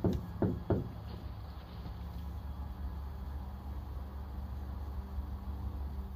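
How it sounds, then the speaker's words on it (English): A woman taps on a door: a few sharp knocks at the start, then steady faint hiss and low rumble with no further knocking. "Woman not wearing a decorative skeleton starts tapping at the door."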